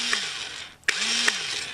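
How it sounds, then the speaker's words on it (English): A Battat battery-powered toy drill from a take-apart airplane kit, running on AA batteries, whirs with a steady motor whine that briefly cuts out and then spins back up, close and alone. "I've already put batteries in the drill so you can see it"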